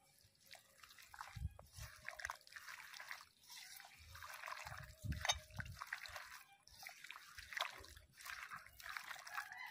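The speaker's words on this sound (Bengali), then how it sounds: "এবার দিয়ে দেব তেল" Oil poured over spiced ingredients in a bowl, then worked in by hand, giving soft intermittent wet trickles and squelches, faint and close, without talk.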